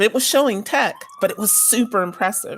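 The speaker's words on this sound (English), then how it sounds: "Sorry about the siren in the background if you can hear it." A police siren wails faintly in the background as a steady rising-and-falling tone, running beneath continuous conversational speech.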